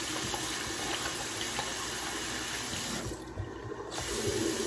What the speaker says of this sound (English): So my face is washed now.